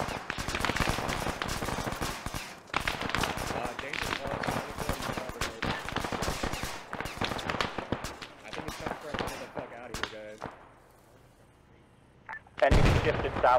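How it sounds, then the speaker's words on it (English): Heavy gunfire crackles in a tactical shooter game as shots hit around a rooftop: dense, rapid reports and impacts for most of the stretch, a brief quieter lull, then another loud close burst. "I'm taking fire on the roof in the southeast."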